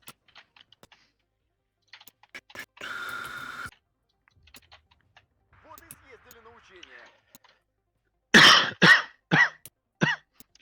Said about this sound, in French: Ça fait 4 semaines que je tousse.